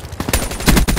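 Rapid automatic gunfire from the video game Black Ops 3, a loud burst of closely spaced shots lasting about a second, heard alone.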